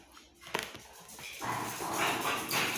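Several dogs barking, yipping and whimpering in a noisy jumble that swells into a loud, continuous chorus midway through.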